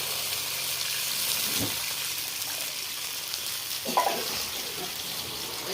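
Water poured into a pan of frying ground spice paste sets off a steady, broad sizzling hiss that runs for several seconds, with a couple of brief louder spatters partway through.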